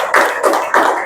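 A class claps in two short bursts of applause, close and loud, with a brief pause between them.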